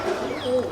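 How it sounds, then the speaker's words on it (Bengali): A pigeon in a loft gives a short, close cooing call lasting under a second. "আর এখানে পায়রাগুলো আছে সব ছাড়া।"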